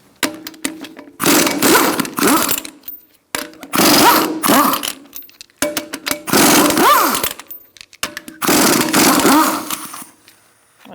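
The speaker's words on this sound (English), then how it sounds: "Using a 19mm socket, we're going to remove our wheel." A power tool fitted with a 19mm socket loosens the front wheel of a 2002-2006 Honda CR-V in four loud, sustained whirring bursts separated by short gaps.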